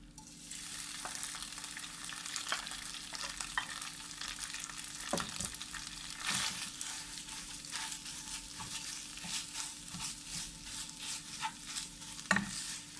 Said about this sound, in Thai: น้ำมันเริ่มร้อนแล้วนะคะ เราก็ใส่ น้ำพริกลงไปผัดนะคะ